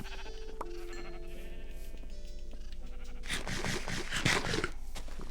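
In Minecraft Bedrock, sheep bleat in quick overlapping bursts near the end, layered over earlier game tones and a low background hum, with no talking.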